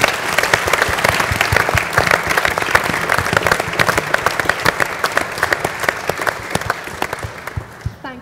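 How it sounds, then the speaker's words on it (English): Steady audience applause fills a youth engagement event on Scotland's future, dense clapping sustained throughout and thinning slightly near the end, with no talk over it. "let's give Louise and Ryan a big round of applause"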